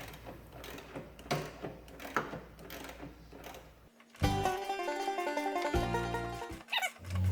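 A wrench works loose a pulley bolt on a John Deere mower, with irregular mechanical clicks and ratcheting followed by a denser, louder stretch of metallic rattling, close and with no talk.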